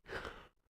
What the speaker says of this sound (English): Forced myself to yawn there.